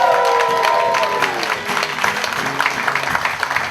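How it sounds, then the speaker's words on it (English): Audience applause at a graduation show, a dense, steady clapping from a crowd with some cheering, loud and continuous throughout before thinning slightly toward the end. "A round of applause."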